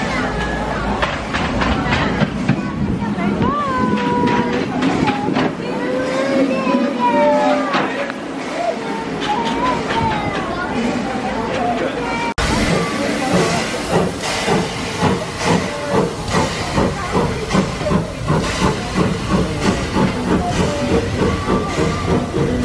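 A Thomas the Tank Engine steam train at a heritage railway event, its hiss and rail clatter steady and fairly loud, with the chuffing growing denser partway through while children and adults talk over it.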